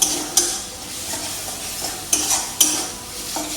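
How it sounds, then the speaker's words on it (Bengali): Saag greens seasoned with salt, chili and a little sugar being stirred and fried in a pan: a soft sizzle under sharp scrapes of a utensil against the pan, several distinct strokes, close and clear, no talking. "নাড়াচাড়া করতে হবে আর ভাজতে হবে"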